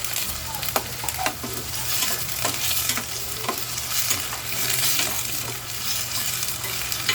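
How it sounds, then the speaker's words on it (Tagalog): Tomatoes sauté in a pan with a steady crackling sizzle, punctuated by repeated scrapes and taps of a spatula stirring them, close and fairly loud throughout. "igisa muna natin yung kamatis na"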